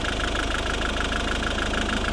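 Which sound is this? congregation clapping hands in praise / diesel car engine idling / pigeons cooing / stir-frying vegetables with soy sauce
diesel car engine idling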